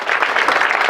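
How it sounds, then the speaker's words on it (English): Brief burst of dense applause from a crowd at a store opening in Michigan, clapping for local council members, loud and continuous. "let's give them a round of applause for their support for this store."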